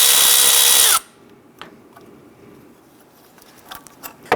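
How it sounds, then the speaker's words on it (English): A power tool driving a 10mm socket runs in one loud, close burst for about a second while loosening a bolt on the alternator bracket of a 2008-2013 Nissan Rogue, followed by quiet metallic taps and handling noises. "Use a 10mm socket to loosen and remove this bolt, holding this wire harness bracket to the top of the alternator."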